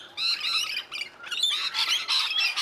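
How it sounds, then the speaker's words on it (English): A rainbow lorikeet gives a run of harsh, rasping squawks in quick succession, loud and close against quiet surroundings, with no other voices. "The rainbow lorikeet is found in a wide range of treed habitats on the east coast of Australia"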